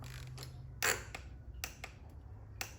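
Torque wrench clicking while tightening the oil filter on a 2018-2025 Audi S4, S5 or SQ5: a few sharp, separate clicks spaced irregularly over a low background hum, fairly close and moderately loud.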